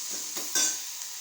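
An onion mixture sizzles in a hot pan while being stirred, a brief close frying hiss broken by a few scraping strokes of the spoon.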